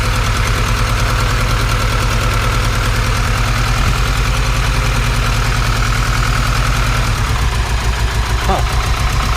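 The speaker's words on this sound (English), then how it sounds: "It is misfiring." A supercharged Honda Integra engine idling with a misfire, a loud, close, steady low throb with an uneven, stumbling pulse and occasional knocks throughout.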